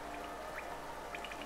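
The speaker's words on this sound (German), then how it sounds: "der Regen dringt durch die Ritzen im Stein über uns" Rain drips through cracks in a cave ceiling above an underground city in Hollow Knight, a soft steady patter with a few brighter drop plinks, faint and continuous.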